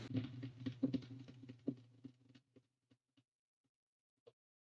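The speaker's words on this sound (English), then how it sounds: "this is what it sounds like when I type on my keyboard" Soft, quick computer keyboard tapping close by, a cluster of clicks that thins out into a few scattered taps before falling silent.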